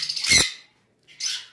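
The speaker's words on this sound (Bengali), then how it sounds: "এইগুলাকে বলা হয় পাইনাপেল কোনোর পাখি" Loud, harsh squawks from a pineapple conure parrot, a double red factor hyper bird offered for sale: one close piercing call, a short pause, then another burst, with no talking.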